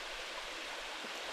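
A small unnamed waterfall on Bear Creek in Arkansas, a steady close rush of falling water filling the whole short moment with broad, even hiss and no other sounds.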